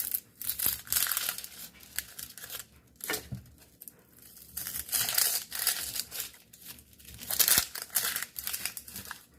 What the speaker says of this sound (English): Peel the skin off.